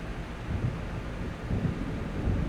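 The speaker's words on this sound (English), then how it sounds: "It seems there's a storm coming." Thunder from an approaching storm over a lake in the game Alan Wake, a steady deep rumble that swells in low rolling waves under wind and rain, with no voices.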